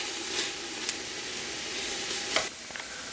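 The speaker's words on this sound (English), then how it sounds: "And I'm also going to add the jalapeno peppers and the juices that it came out of. And let those kind of cook a little bit for a few more minutes." Onions, garlic and jalapeno peppers with their juices cook in a pan, giving a steady soft sizzle with a few brief clicks of stirring.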